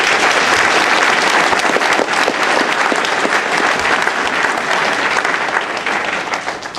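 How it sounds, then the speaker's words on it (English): Parents in an audience applaud young men at a boot camp graduation ceremony, a sustained, dense burst of clapping that stays loud throughout and fades slightly at the end. "I want you to applaud them for making it to the graduation ceremony."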